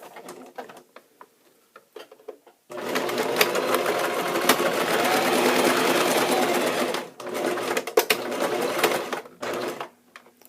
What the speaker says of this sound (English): make sure you do a back and forth stitch that kind of locks in your stitches right at the pins and at the edges